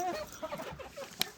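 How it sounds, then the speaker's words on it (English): Small bantam chickens cluck softly in short, scattered calls close by, with a sharp brief click partway through. "Even the little bantams."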